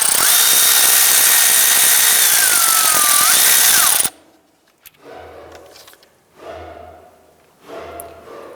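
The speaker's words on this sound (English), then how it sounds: "Using a 10mm socket, go ahead, loosen and remove the bolt holding your ABS sensor." Power tool with a 10mm socket loosening the ABS sensor bolt on a 2008-2013 Nissan Rogue, a loud steady whirring buzz for about four seconds, then stopping, followed by quieter intermittent handling noises.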